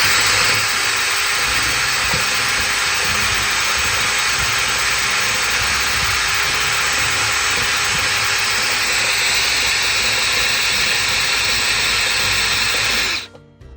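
A homemade DIY polisher for dopped stones and cabochons runs loud and steady with a high whining, hissing motor tone, the dopped stone pressed into carpeting inside, holding constant for many seconds before abruptly cutting off.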